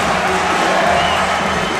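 A dense, loud crowd roars and cheers steadily at a college men's basketball game between FAU and UAB, a continuous wash of arena noise with no breaks.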